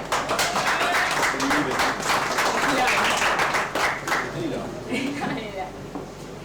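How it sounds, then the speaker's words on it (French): An audience at a product launch evening claps for the brand executive, the dense clapping loud at first and then thinning, while a voice speaks over the later part. "Nous pouvons l'applaudir, s'il vous plaît."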